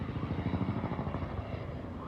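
A helicopter passes overhead during an outdoor morning run, giving a steady, loud rotor thump with a rapid pulsing beat that holds through the whole stretch and eases slightly toward the end.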